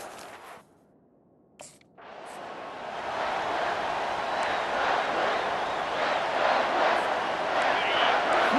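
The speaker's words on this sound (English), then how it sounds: "Listen to the crowd energy here in the early going." A stadium crowd roars in the EA Sports College Football 25 video game, a steady broad wash that swells after a brief quiet dip and holds loud and sustained for the rest.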